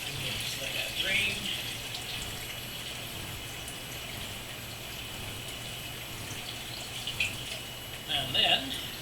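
Water drains steadily from a cleaned indoor pond filter full of debris, a continuous soft trickling wash with a few brighter splashy bursts near the end.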